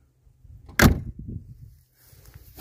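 A single heavy, vault-like door of an old rusted barn-find car shuts with a solid thud, followed by faint rattling and settling sounds.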